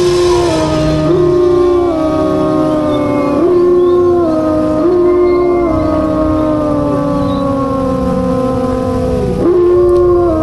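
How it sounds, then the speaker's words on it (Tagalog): Several neighbourhood dogs howl together in long, overlapping wavering cries that rise and fall, sustained and loud throughout. "ang mga aso sa lugar namin ay halos sabay-sabay na umalulong."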